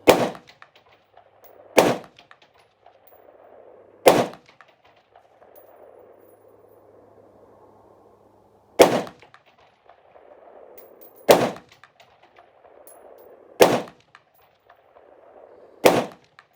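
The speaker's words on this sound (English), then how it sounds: "Yeah, you're hitting the steel." Rifle tracer rounds fired at a steel target at night: seven sharp, loud cracks spaced roughly two to four seconds apart, each with a brief ring-off, over quiet outdoor background with no talking.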